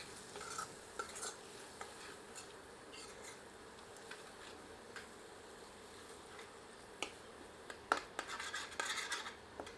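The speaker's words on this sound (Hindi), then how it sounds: "सबको मिलाते हैं और 2 से 3 मिनट धीमी आंच पर भूनते हैं।" Paneer curry masala with Kashmiri chilli and garam masala being stirred and roasted over low heat in a pan, a soft steady sizzle with light scraping strokes, quiet and close, a few sharper clinks near the end.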